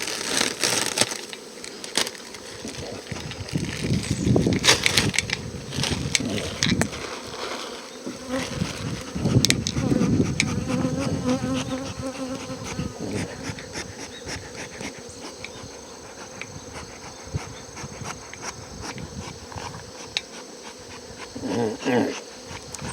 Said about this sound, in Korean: 날이 온도가 많이 내려가니까 벌이 벌통 가쪽에 있던 벌들이 다 안으로 음, 들어갔습니다.